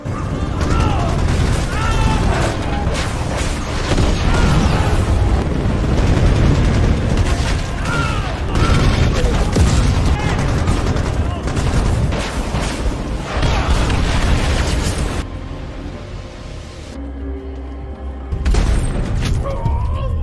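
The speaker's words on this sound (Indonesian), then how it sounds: "Helikopter Apache yang sudah menerima titik lokasi mortir musuh segera menghujani mereka dengan serangan rudal dan tembakan mesin dengan begitu dahsyat" Battle scene from the 2022 film The Ambush, with Apache helicopter missile strikes and machine gun fire pounding enemy mortar positions: loud, dense barrage of booms and rapid gunfire for about fifteen seconds, then a brief lull before another burst.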